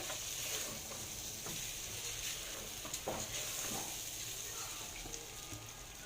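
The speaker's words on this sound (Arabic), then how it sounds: "هنغلف كده الرز بالماده الدهنيه، وبعد كده ننزل بالميه." Rice being stirred in a pot to coat it in fat, a steady close sizzle with soft scraping stir strokes and occasional clicks, with no voice over it.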